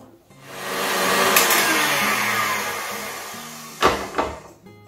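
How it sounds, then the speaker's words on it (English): An electric mixer runs steadily, creaming butter and sweetener for keto sugar cookies, with a droning whir that fills the clip before a couple of sharp knocks near the end. "now we're going to cream the butter and the sweetener"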